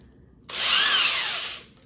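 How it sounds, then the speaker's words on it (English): A power drill fitted with a coring blade bores down into a pineapple in one short whirring burst of about a second and a quarter. It starts abruptly, holds a high whine, then fades out, with no talking. "you're just gonna go ahead and drill down"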